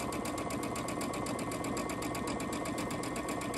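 Sewing machine stitching steadily with a dual feed quilting foot and guide, a fast, even mechanical whir and needle chatter running continuously close by.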